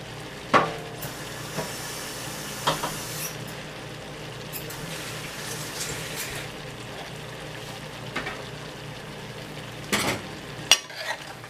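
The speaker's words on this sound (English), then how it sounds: "So we're going to stir this" A spoon stirs chicken pot pie filling in a pot, a steady soft scraping and bubbling sizzle with a few sharp clinks of utensil against the pan.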